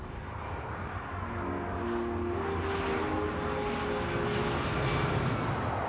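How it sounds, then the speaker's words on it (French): A Dassault Mercure jet airliner from 1971 flies past with a steady, loud engine roar that builds slightly and holds evenly throughout, with no voices. "1971, le Mercure révèle d'excellentes qualités de vol."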